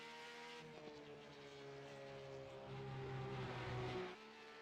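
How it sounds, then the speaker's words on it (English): Race cars driving past, a faint distant engine drone with steady harmonic tones that swells and rises as a car approaches, then cuts off near the end. "I love the sound of these cars"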